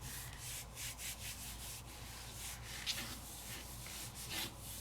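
A hand rubs steadily over a paper crafting surface, a soft continuous scuffing with faint sanding-like texture and a couple of small clicks, close and alone without talk.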